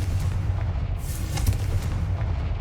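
A Confringo fire blast spell in Hogwarts Legacy erupts with a loud fiery whoosh and burst over a heavy low rumble, a short explosive flare standing out near the middle.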